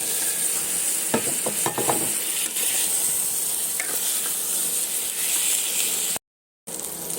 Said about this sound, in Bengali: মশলাটা ভাজা হয়ে গেছে, এবার দিয়ে দেবো এটা আলু পটলটা।